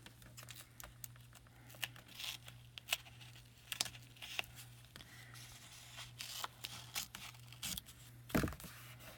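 Double-sided tape trimmed with scissors during card crafting: quiet, scattered snips and light crinkling over a faint steady hum, with no voices.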